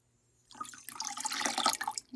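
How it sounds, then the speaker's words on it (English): A plant pot plunged straight down into water for paint marbling gives a close watery slosh and swirl that begins after a short silence and builds for about a second and a half. "this time I'm going to do one straight dunk in so that I get all of my surfaces"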